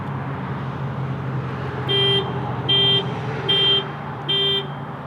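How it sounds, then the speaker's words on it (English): A 2019 Volkswagen Tiguan R-Line's panic button sets off four short, evenly spaced electronic horn beeps, each about half a second long, over a steady background hum. "Okay, so it just beeps the horn, flashes the lights."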